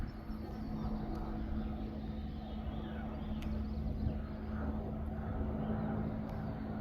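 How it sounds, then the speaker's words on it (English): A fixed-wing airplane descending fast near a small airport, a steady loud droning roar with a constant engine hum that holds without pause. "And I hear the airplane flying down very fast, pushing hard."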